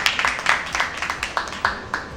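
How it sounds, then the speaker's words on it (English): Audience applause for Harvey Ong, the COO of Alfamart, at a business event: a short burst of clapping from a small crowd with a loose, steady rhythm of distinct claps, fairly close and alone. "So let's give a round of applause to Harvey Ong, the COO of Alfamart."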